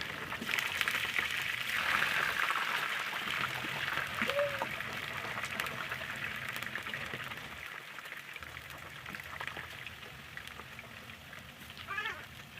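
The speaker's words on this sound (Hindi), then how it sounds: "ऑयल जो था वो हमारा फुल गर्म था और यहाँ पर मैं एक एक करके चिप्स डालने के बाद इनको बहुत ही अच्छे तरीके से फ्राई करूँगी" Potato chips for crispy fries sizzle in fully heated oil, a steady close crackling hiss that runs unbroken throughout with no talking.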